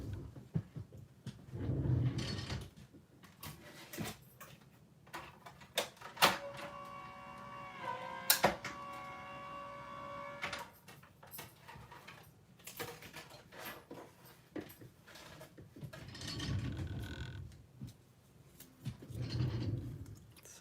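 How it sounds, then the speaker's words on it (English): A die cutting machine runs card stock through with a faint mechanical whir and grinding hum for a few seconds, bracketed by soft handling rustles and thumps, quiet overall. "why fussy cut when we can just run it through the machine?"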